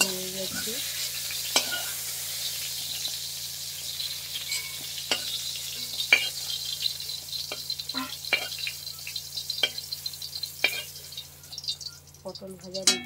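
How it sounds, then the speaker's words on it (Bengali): Pointed gourd (potol) fries in oil with a constant soft sizzle, while a spatula scrapes and clicks against the pan at irregular moments, up close. "তার জন্য আমি হালকা করে পটলটাকেও ভেজে নিচ্ছি।"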